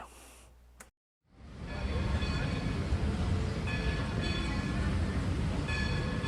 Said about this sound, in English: enjoy a scenic train ride around Dollywood behind this historic World War II veteran locomotive